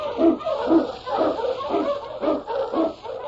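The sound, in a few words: sled dog barking, radio drama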